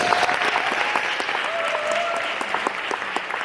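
A conference audience gives a speaker a round of applause, a loud, close, sustained patter of many hands clapping with a faint voice briefly audible under it.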